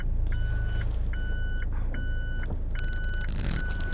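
A rental car in Japan sounds its reversing alarm: a steady series of about five evenly spaced electronic beeps, clear and continuous over a low engine hum, with no talking.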